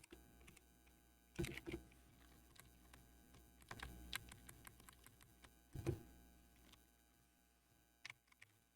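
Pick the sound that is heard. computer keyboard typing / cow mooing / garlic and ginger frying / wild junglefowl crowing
computer keyboard typing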